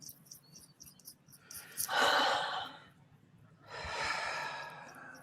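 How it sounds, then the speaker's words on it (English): A person takes a slow, deep breath, with a long audible inhale followed by a breathy exhale, close and quiet with no talking. "Take a deep breath."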